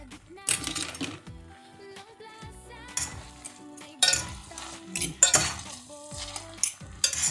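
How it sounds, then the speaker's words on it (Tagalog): Egg and pecorino carbonara sauce is stirred in a hot pan, with repeated scraping strokes, clinks of utensil on metal and a soft sizzle, close and moderately loud, without speech. "At syempre, ating haluin hanggang sa maluto ang itlog."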